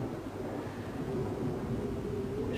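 Storm sounds from a cemetery scene, with steady rain and a continuous low rumble of thunder, heard loud and close throughout with no talking.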